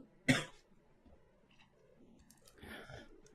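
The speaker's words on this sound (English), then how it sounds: "And I'm going to cough 1 second." A single sharp, close cough bursts out, followed by quiet rustling and a softer throat-clearing, breathy sound near the end.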